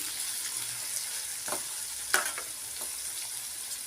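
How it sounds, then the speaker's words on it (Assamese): Mutton with meat masala is stirred in a frying pan, making a soft, continuous sizzle with a few scraping strokes and one sharper clink near the middle. "এতিয়া খুব ভালদৰে মই এইদৰে লৰাই ল'ম"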